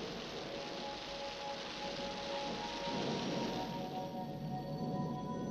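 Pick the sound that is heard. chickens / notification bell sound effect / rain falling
rain falling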